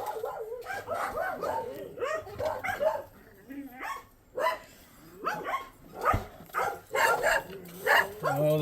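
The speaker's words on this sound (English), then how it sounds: "Oh, the dogs are going crazy." Several dogs bark in repeated bursts, fairly close and loud, while a person talks over and between the barks during the unboxing of model train tools and parts.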